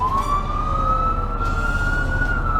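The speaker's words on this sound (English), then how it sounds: "And that gives you a regular sound like a siren." A fire truck's push-button siren wails steadily and loudly, holding a sustained rising tone over a deep engine rumble without any talk.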